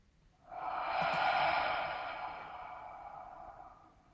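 A single long, deep breath is exhaled close to the mic, a soft airy rush that swells quickly and then slowly fades over a few seconds.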